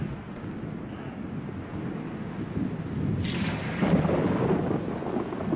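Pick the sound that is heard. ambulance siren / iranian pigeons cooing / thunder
thunder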